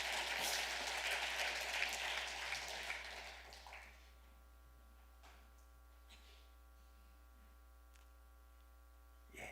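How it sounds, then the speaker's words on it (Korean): A church congregation applauds for about four seconds during an afternoon service, a broad wash of clapping that fades out, leaving a low electrical hum over near-silence. "박수를 한번 해줘야 될 모양인데요."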